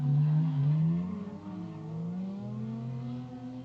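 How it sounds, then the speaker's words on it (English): Pro Light drift cars with Nissan VQ engines at an Ultimate Drifting Challenge competition, heard at a distance as a high, wavering engine wail that rises and falls in pitch, fairly faint and with no talk. "Both of these VQ cars are screaming like a trumpet."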